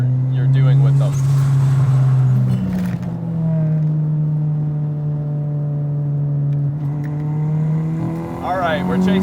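A turbocharged B18C engine in an EK Civic hatchback accelerates hard on a race track with a loud, rising whine. One gear change breaks it, then it climbs again, with excited voices talking over the engine.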